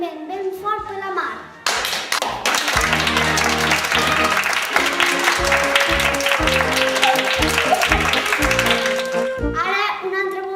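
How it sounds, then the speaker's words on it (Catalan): Enthusiastic clapping for a young volunteer at a children's magic show, with taps and thumps and music-like tones running beneath, and kids' voices and a talker heard alongside the applause. "Un aplaudiment ben fort per la Mar."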